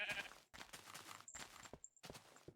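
A Minecraft sheep bleats in a few short bursts amid blocky game footsteps and clicks, close and fairly quiet.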